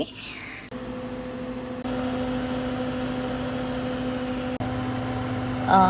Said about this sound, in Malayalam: ഇത് നമ്മളിനി ഒരു 5 മിനിറ്റ് നമ്മളൊന്ന് മൈക്രോവേവ് ചെയ്യുക